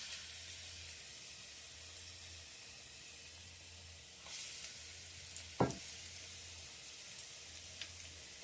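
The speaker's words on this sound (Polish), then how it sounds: "w cieście i układam na oleju" Battered food frying in oil, a steady low sizzle and hiss throughout with a soft crackle and one brief louder clatter midway, close and quiet with no talking.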